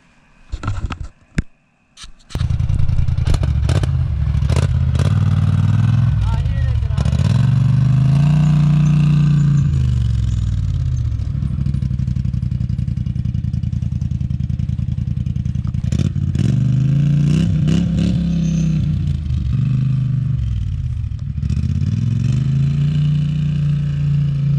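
Polaris Sportsman Highlifter 1000 ATV fitted with a Trail Stalker GSE muffler rides off toward a pond, its engine loud and close with repeated rising and falling revs, steady throughout.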